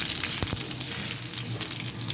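Mustard seeds and green chillies fry in hot oil with a steady, close crackling sizzle and a few sharp pops, no voices.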